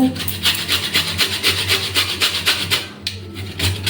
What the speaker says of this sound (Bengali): এরকম ঘুরিয়ে ঘুরিয়ে আমি চেষ্টা বার করে নেব যাতে সাদা অংশটা না চলে আসে